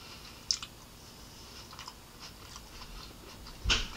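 Close, quiet chewing of a breakfast of sausage, eggs and tomato, with soft wet mouth sounds and a couple of sharper bites or clicks standing out against a low background.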